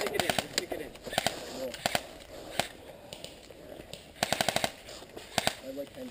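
Airsoft guns fire in sharp rapid bursts and single cracks during an outdoor skirmish game, some volleys close and others farther off, with players talking in between.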